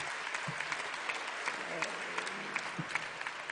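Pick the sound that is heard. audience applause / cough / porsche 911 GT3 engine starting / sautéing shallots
audience applause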